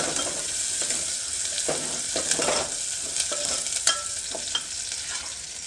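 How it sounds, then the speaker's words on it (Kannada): Onion fries in a pan for a fenugreek and spinach sambar, a continuous close sizzle with repeated scraping stirs of a spoon against the pan. "ಈರುಳ್ಳಿ ಒಂದು ಸ್ವಲ್ಪ ಫ್ರೈ ಆಗಿದೆ"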